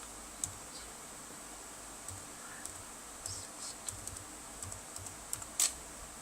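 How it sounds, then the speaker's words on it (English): A Wi-Fi password being typed on a notebook computer keyboard, sparse quiet key clicks spaced irregularly over a low hiss, with one sharper louder tap near the end. "I have to type the password of my Wi-Fi here"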